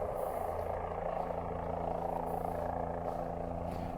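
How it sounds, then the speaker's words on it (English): A police helicopter flies over wooded areas during a search near Myrtle Beach, making a faint, steady rotor drone with no talk. "That helicopter is mostly looking through wooded areas, trying to get an idea of possibly where people cannot get to"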